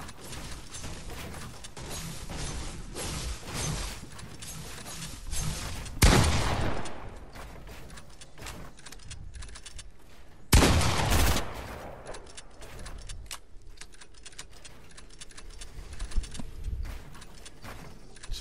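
Gunfire from a Fortnite Zone Wars match, a string of rapid shots with two louder, heavier blasts standing out from the rest, all without talk.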